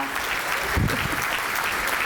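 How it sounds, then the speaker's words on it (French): Audience in a hall applauds, a dense sustained burst of clapping that stays loud and even throughout, with no voices standing out. "Ça mérite beaucoup plus d'applaudissements."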